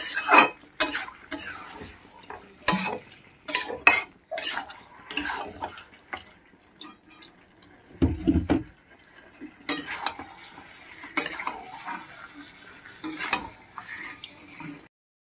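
Chicken is stirred and fried in a metal pot over high flame for a home-style dum chicken, with repeated sharp scrapes and clinks of a utensil against the pot in irregular bursts, close and clear, with no talking.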